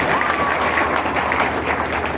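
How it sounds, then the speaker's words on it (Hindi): Audience at a business gathering in a marriage hall clapping loudly and continuously, a dense wash of applause from a large crowd, with faint voices underneath. "एक बार दिल से जोरदार ताली होनी चाहिए"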